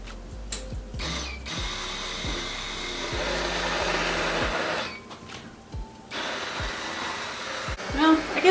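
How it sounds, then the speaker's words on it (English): Electric hand mixer whirring as it creams a mixture in a home kitchen, a steady motor hum broken by brief stops and restarts and clattering knocks against the bowl. "it's mixing, it's creaming up"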